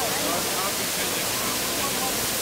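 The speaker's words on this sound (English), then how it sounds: "Has an abundance of water here. That's why they have the fountain." Water pours at the Trevi Fountain in Rome, a loud, dense, continuous rushing hiss that stays close and steady throughout, with a voice faintly under it.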